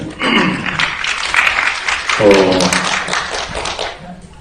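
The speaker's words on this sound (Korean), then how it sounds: "공감의 박수인 것 같습니다." Audience applause at a panel discussion on progressive politics, with irregular clapping mixed with voices and a fresh swell of clapping midway before it eases.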